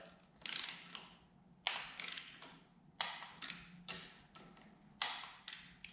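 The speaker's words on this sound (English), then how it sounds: "These are T30, and I'm going to tighten them to 8 newton meters." A ratchet tool tightens T30 bolts on Barkbusters handguard levers of a BMW R1200GS motorcycle, producing repeated short clicking bursts of ratcheting spaced about a second apart, close and fairly quiet.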